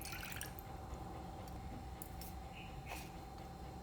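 Fish sauce is poured into a bowl for a grilled beef dipping sauce, giving faint, quiet drips and small liquid splashes over a soft background hiss, with no talking.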